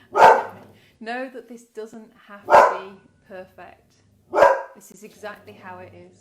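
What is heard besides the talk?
dog barking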